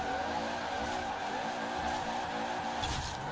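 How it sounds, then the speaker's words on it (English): A 1992 Toyota Supra twin turbo drifting in Forza Horizon 4, its tires squealing continuously in a long slide over a steady, droning engine, loud and close with no talk. "I do like drifting, it is good fun."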